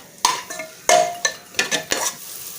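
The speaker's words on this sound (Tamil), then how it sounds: "பட்டை கிராம்பு பொடியை சேர்த்துட்டு நல்லா வணக்கி விட்டுருங்க" A spoon stirring cinnamon and clove powder for veg biryani scrapes and knocks around a metal pot in several separate strokes, bright clinks over a faint sizzle, close up and without speech.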